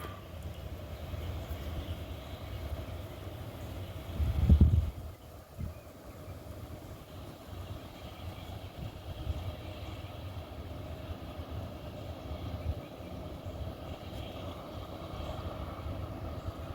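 A long freight train rumbles steadily past with continuous low clanking and rolling noise, one heavier thud early on, no voices.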